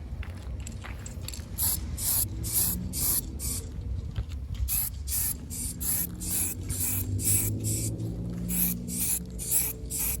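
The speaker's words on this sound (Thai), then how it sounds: "ผมจะพ่นสีส้มนะครับ โดยใช้สีสเปรย์ของไทแลกนะครับ สีไนโตรนะครับ" A Thai Lac orange nitrocellulose lacquer spray can coats a guitar body, giving repeated short hissing bursts in a steady rhythm over a low background hum.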